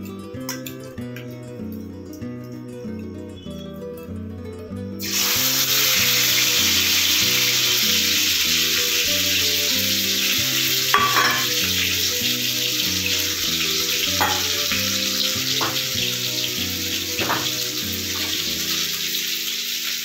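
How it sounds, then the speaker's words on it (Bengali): Spices stir-fried in hot oil in a kadai in a village home kitchen. After a few seconds of background music alone, a loud, steady sizzle starts and carries on under the music, with occasional sharp scrapes. "এবার এখন কড়াইয়ের তেল প্রায় গরম হয়ে গিয়েছে, আর মশলাটা আমি সমস্তটা মেখে নিয়ে একসাথে কষে নেব"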